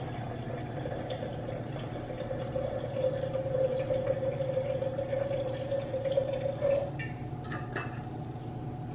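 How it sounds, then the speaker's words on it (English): About 504 grams of water pours steadily into a drip coffee maker with a thin trickling tone that runs for several seconds, then stops, followed by a few light clicks. "I've got my 504 grams of water going in."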